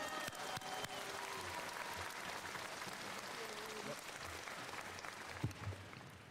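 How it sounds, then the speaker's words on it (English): Sustained applause from a crowd fills the hall at a high school commencement ceremony, a steady wash of clapping heard from a distance that continues throughout, with a voice faintly underneath. "Let's get a nice round of applause and let's have a great celebration."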